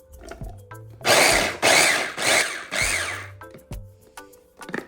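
A mixer grinder chops half a carrot and a capsicum in loud bursts of whirring, four pulses of about half a second each, separated by brief pauses and clattering handling sounds.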